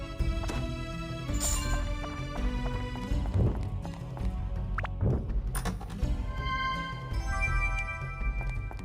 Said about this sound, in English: Who's stomping about? I hear you.